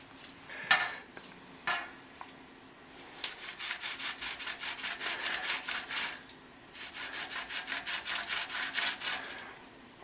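Sponge scrubbing softened grease off metal oven racks after a bicarb soak, a few scattered scrapes and then a quick run of steady rhythmic back-and-forth strokes, close and fairly quiet.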